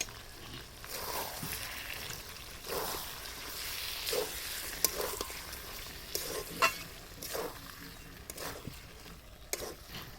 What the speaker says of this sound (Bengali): এটা দিয়েও আমি আবার ভালোভাবে নেড়েচেড়ে মিশিয়ে নেব।